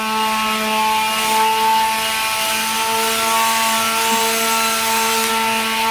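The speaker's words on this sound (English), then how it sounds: "He's using the wire brush to take down any rust that's left over on the subframe" A wire brush scrubs leftover rust off a car subframe to prep it for paint, making a continuous, loud, close rasping rub with a faint steady tonal whine underneath, no speech.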